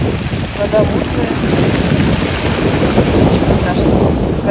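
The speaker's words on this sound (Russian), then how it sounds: "Ветер сегодня, кстати. Может быть, меня плохо слышно." Strong wind buffets the microphone on a pebbly Black Sea beach at Lazarevskoye, a steady loud low roar of gusts that covers the whole clip, with a faint wash of surf underneath.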